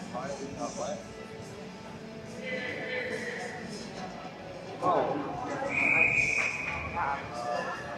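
A referee's whistle at an ice hockey game gives one sustained shrill blast over a commentator's continuous play-by-play, with faint rink and crowd noise behind.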